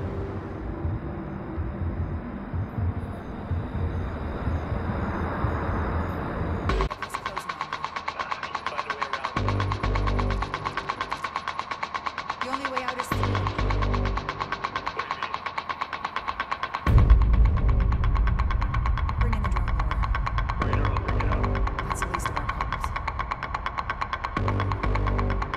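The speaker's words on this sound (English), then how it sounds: "UAV shows a dozen plus vehicles racing to your position." Engines of a dozen or more vehicles racing closer in the game Splinter Cell Blacklist, a steady throbbing drone and hum with pulsing surges, growing louder partway through.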